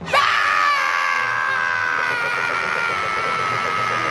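A Formula Drift Pro driver lets out a loud, sustained, strained pre-race scream that holds steady for about four seconds, close and alone.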